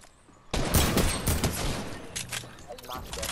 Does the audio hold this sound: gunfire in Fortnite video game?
yes